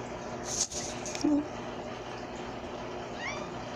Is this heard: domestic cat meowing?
yes